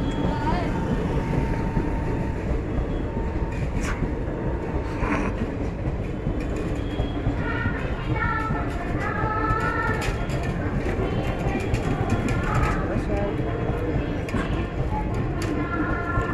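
The Triveni Express, hauled by a WAP-7 electric locomotive, rumbles past with a steady roar of wheels and wagons, rhythmic rail clatter and a few horn-like tones riding over the noise.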